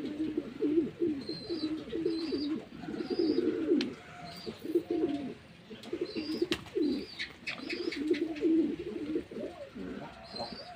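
Pigeons coo steadily and close by while pecking at balanced grain feed, their low rolling calls repeating in overlapping bursts with occasional soft chirps, and no voices present.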